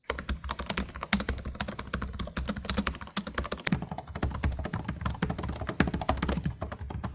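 Fingers type rapidly on an Asus ROG Zephyrus G16 gaming laptop keyboard, a dense run of full-sounding keystrokes and clacks at close range, steady and uninterrupted with no voices.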